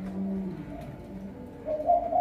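A caged turtle dove gives low, mellow coos nearby, with a steady hum at first and then a few rising throaty notes at the end.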